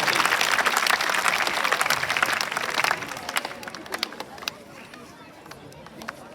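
Children at a school in Gharsana, Rajasthan clap loudly and steadily in a dense round of applause for a departing teacher, the clapping thinning and fading to scattered claps and murmur after about three seconds.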